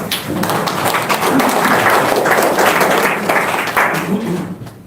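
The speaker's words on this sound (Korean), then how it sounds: "박수 한번 치자고요." An audience at a humanities lecture on Joseph Taejo Yi Seong-gye and Pocheon's cultural heritage bursts into dense, steady applause that rises and then tapers off, with no talking.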